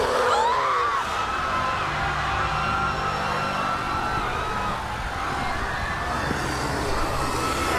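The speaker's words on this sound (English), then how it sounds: "It's so dark and lots of people are screaming and running around." A dense crowd screaming and yelling in the dark at a creepy live show, loud and continuous, with one sharp rising shriek near the start and a thick layer of voices throughout.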